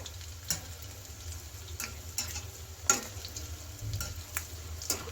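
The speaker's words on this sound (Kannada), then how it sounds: "ನಿಧಾನವಾಗಿ ಎಲ್ಲನೂ ಎಲ್ಲ ಕಡೆ ಒಂದೇ ರೀತಿಲಿ ಕಲರ್ ಬರೋ ಥರ ಫ್ರೈ ಮಾಡಿ ತಗೋಬೇಕಾಗತ್ತೆ" Potato and wheat flour snacks deep-frying in oil over a medium flame, a steady low bubbling sizzle with occasional sharp crackles and pops, close and fairly quiet, no voices.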